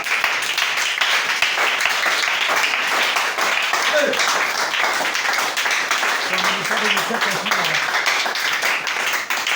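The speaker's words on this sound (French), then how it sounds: "Acclamons très fort" Congregation at a church gathering clapping and cheering steadily throughout, a dense continuous roar of applause with voices mixed in underneath.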